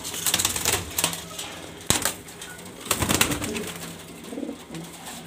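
Grizzle pigeons coo and shuffle close by in a loft, soft cooing mixed with sharp clacks and brief flutters that come in irregular bursts.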